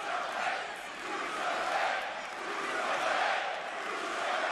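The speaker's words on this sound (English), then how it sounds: "The crowd in Brooklyn chanting a bruiserweight." Large arena crowd in Brooklyn chanting at a WWE NXT wrestling show, a rhythmic swelling and fading roar of massed voices heard from within the audience.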